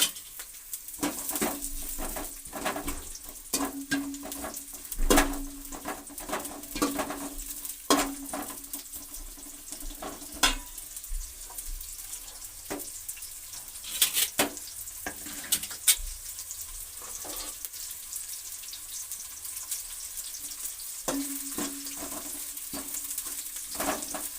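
Onions fry in a pan with a continuous sizzle, broken by repeated scraping clicks and knocks of a spoon stirring against the metal, close and fairly loud with no talking.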